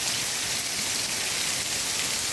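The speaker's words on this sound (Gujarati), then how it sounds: "જો વરસાદ વરસે છે" Heavy monsoon rain pours down in a steady, dense hiss that fills the whole stretch without a break, with no voices.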